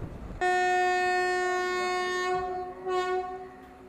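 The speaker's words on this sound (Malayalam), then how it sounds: "അങ്ങനെ വലിയൊരു horn മുഴക്കത്തോടെ Kannur Ernakulam intercity express Parappanangadi railway സ്റ്റേഷനിൽ പുറപ്പെടുന്നുണ്ട്" The Kannur Ernakulam Intercity Express sounds its horn departing Parappanangadi railway station: a loud, close, sustained blast of about two seconds, followed by a shorter second blast, with no voices.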